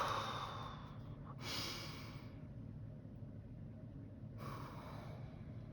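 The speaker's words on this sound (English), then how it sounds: "we're going to, again, take a big deep breath" A slow, deep breath drawn in and released during a guided reflection on truth and reconciliation, heard as a soft airy rush of inhale and exhale over a low steady rumble, close and without talk.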